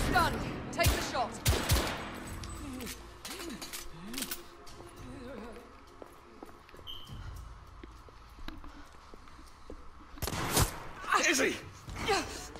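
Loud gunshots ring out in The Order: 1886, several sharp bursts clustered early, scattered single shots through the middle and another volley near the end, mixed with voices and background game noise.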